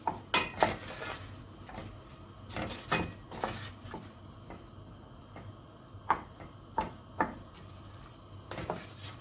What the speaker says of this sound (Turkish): Domateslerimizi ocağımıza aldık. Biraz soteliyorum arkadaşlar.